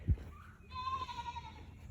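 Goats on a small farm give a single drawn-out bleat at moderate distance, fairly faint against quiet outdoor background noise, with no talk.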